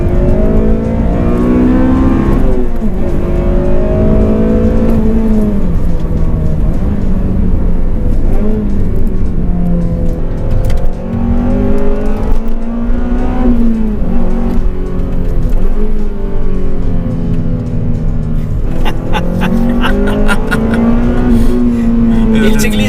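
A Honda Civic Type-R FN2 with its VTEC engine revs hard for a sustained stretch, pitch rising and falling through repeated climbs to high rpm, loud and close, with speech-like tonal layers mixed in throughout.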